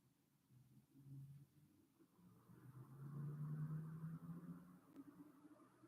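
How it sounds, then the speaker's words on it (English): An older car labouring slowly along a flat road, its low engine drone rising and falling steadily at mid distance with no talk over it. "Can you hear that car?"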